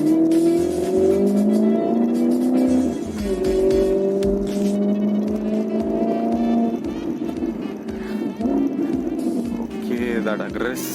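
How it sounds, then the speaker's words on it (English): A Range Rover V8 in sports mode downshifts hard, its engine and exhaust revving loudly and steadily with pitch rising and falling from inside the cabin, while people talk over it. "that aggressive downshift was really something"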